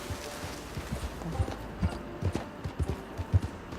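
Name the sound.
horse hooves and breathing in a video game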